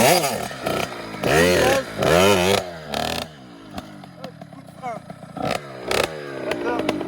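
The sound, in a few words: motorcycle engine revving while doing a wheelie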